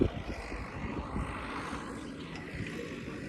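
Steady low rotor-like engine rumble of a helicopter passing overhead, continuous and fairly loud throughout with no voices.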